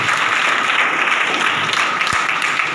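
An audience at a motivational business seminar breaks into loud, dense, continuous applause that fills the hall, with no voices over it.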